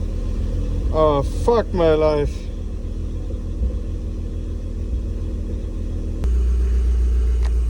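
A VW Scirocco R with a misfiring engine idles with a low, uneven rumble close by. A voice briefly exclaims over it, and then the engine rumbles on alone with a sharp click near the end.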